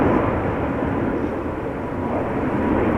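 Singapore Airlines Airbus A350-900 taking off at Amsterdam Schiphol Airport, a loud, steady, broadband jet engine roar heard up close without pause.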